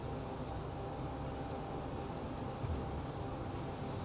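A train rolling into a freight station in Transport Fever 2, a low, steady rumble of wheels and carriages at a constant moderate level, faint and with no voices.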